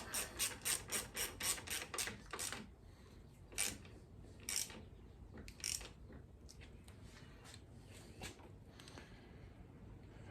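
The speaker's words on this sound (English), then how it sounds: "Tighten the pinch bolt." Ratcheting clicks from tightening the fork pinch bolt on a Yamaha XJ900 Seca, a quick run of close, rhythmic ticks at first, then scattered separate clicks and light metal handling, with no talk.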